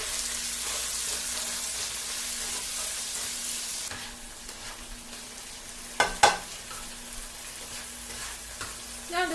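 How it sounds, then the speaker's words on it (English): Chopped tomatoes frying in a pan for chicken biryani: a steady, close sizzle that softens partway through, then a few sharp scraping stir strokes against the pan. "Mix it together, fry it until the tomatoes soften."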